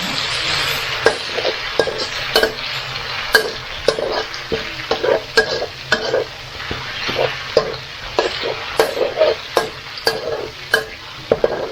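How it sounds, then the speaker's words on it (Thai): Yellow bamboo shoots stir-fried with garlic over medium-low heat in a pan, a steady close sizzle broken by repeated sharp scrapes and clacks of the spatula, continuous throughout with no talking. "ผัดให้หอมเลยนะคะ ผัดกับกระเทียมนะคะ ใช้ไฟปานกลาง อ่อนผัดให้หอม"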